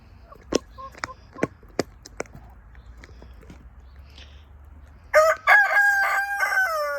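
Scattered clucks from a few hens, then a loud, close rooster crow rings out over the end of the clip.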